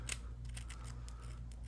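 A single sharp snip of scissors cutting through cheap surgical tubing for pole spear bands, close and brief near the start over a steady low hum.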